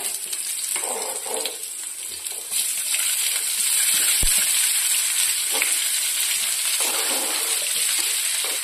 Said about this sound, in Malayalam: ഇനി നമുക്ക് ആ എണ്ണയിലേക്ക് തന്നെ ഇതാ നമ്മൾ പരിഞ്ഞ ഒരു സവോളയും ആ ചെറിയ ഉള്ളിയും കൂടെ ആഡ് ചെയ്ത് കൊടുക്കാവേ